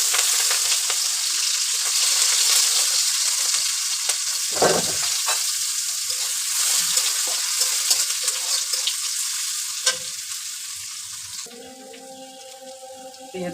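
Whole cumin seeds, green chillies and onion sizzle steadily in a hot pan, a loud continuous fry with a few stirring scrapes near the middle and a faint tap-water run toward the end, no voices.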